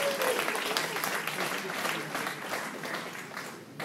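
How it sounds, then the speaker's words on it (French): An audience at a Réunion cultural talk applauds, a dense, steady wash of many hands clapping that stays loud for several seconds and eases slightly toward the end. "Arrête d'applaudir, il ne passe pas l'élection."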